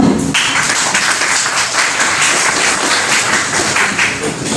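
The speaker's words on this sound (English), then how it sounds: "Let's give them a big round of applause." Audience applause after a student presentation, a loud, steady wash of clapping that starts abruptly and carries on without letup, close and full.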